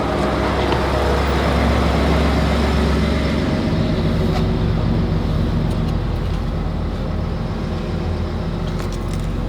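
Steady in-cabin road rumble and engine drone from a 2021 Ford Raptor Gen 3 with the 37 package, driving on the road, loud and continuous with deep low-end hum throughout and no talking.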